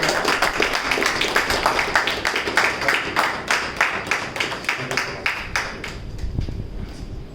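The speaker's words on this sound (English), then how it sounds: "With a great applause from you" An audience claps to welcome a keynote speaker, a dense burst of applause that settles into a slower rhythmic clapping with distinct individual claps, then fades near the end.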